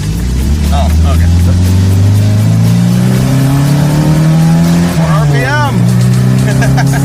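A car engine revs hard through a KTM dirt bike muffler fitted as the exhaust tip, a loud rising and falling drone with a blip of revving near the end, under people talking.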